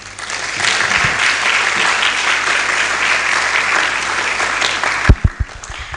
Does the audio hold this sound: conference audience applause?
yes